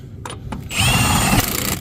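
An impact wrench with a 21 mm socket tightens a Ford Lightning truck's lug nuts: a couple of short taps, then a loud, rough, rattling mechanical burst that runs to the end.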